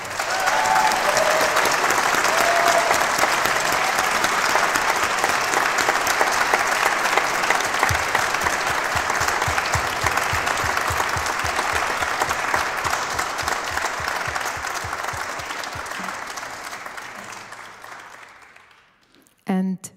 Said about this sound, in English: Please give a warm applause to the multitasking queen